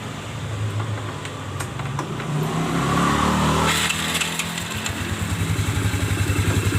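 A Yamaha Mio Smile scooter with a slipping drive starts and runs nearby, giving a loud, steady idle with a slight swell in revs midway and a rapid pulsing putter toward the end.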